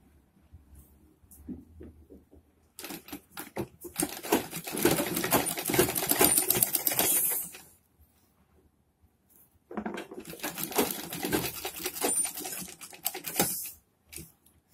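A sewing machine stitches over the eye strip of a padded blouse in two bursts of rapid, rattling needle action, each about five seconds long, separated by a short pause. The surroundings are otherwise quiet.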